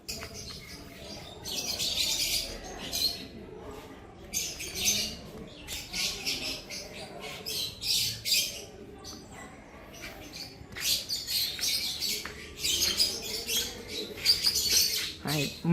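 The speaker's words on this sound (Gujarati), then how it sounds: "મલ્ટી કલરના પોપટ." Multi-coloured parrots call from a bird sanctuary in Darjeeling, sending out repeated shrill squawks and chirps in bursts. The calls are near and moderately loud, over a low background hum.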